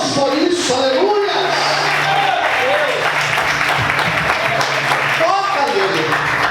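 A church congregation at a Portuguese-language sermon applauds, a sustained wash of clapping under a preacher's voice that keeps talking over it.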